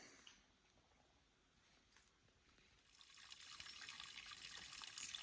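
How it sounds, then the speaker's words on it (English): Spring water trickling out of a trail-side bank along the Appalachian Trail, a faint quiet dribble at first that swells into a steady, brighter rushing flow. "That may be the best water source I've had on the whole trail. It's coming out of a spring about 20 feet up the bank."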